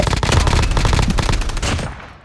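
Rapid automatic gunfire in a battle royale video game rattles loudly and continuously in dense bursts, then trails off near the end.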